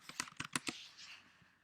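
A handful of quick, close key presses and clicks on a computer keyboard and mouse, five or six sharp taps in a short burst followed by a faint trailing click.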